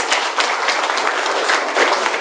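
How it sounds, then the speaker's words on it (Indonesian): An audience at a corporate presentation in Indonesia applauds, a loud, dense, continuous roar of clapping close by with no pause across the short stretch. "Tepuk tangan dong untuk Mypom."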